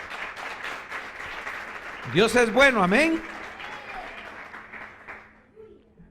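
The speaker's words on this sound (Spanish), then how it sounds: "¿Cuántos le quieren dar un aplauso de alabanza a Dios por su palabra?" Congregation in a Spanish-language church service breaks into applause praising God, a loud burst of clapping and cheering of about a second, with a preacher's voice over it and speech continuing before and after.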